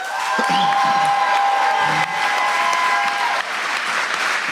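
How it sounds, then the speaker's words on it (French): An audience at a comedy festival show applauds steadily, a dense, loud wash of clapping with faint cheers and whistles, continuing without a break. "j'aimerais que vous applaudissiez à chaque fois qu'on nomme le monde"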